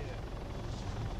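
A helicopter in the military video game Arma 3 gives off a steady, muffled rotor and engine drone, low and continuous throughout the brief moment.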